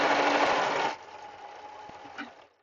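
A sewing machine whirs loudly and steadily for about a second, then stops, leaving a faint hum and a small click as it fades out.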